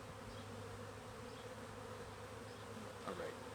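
Faint, steady buzzing of many honey bees at an open hive during an inspection hums continuously in the background, close by, with no talking.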